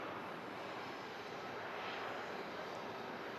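A Jet2 Boeing 757 jet takes off on runway 23 left at Manchester Airport on a misty, damp day, giving a steady broadband engine roar that holds loud and constant, with no talk over it.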